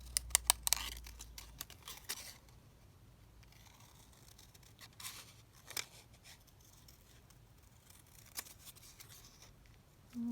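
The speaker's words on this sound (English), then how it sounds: "And then I'm just going to just cut out this little bow." Scissors snip out a small paper bow for a watercolour art journal page, giving a few quiet, crisp cuts and rustles of paper, close and soft, with no talk.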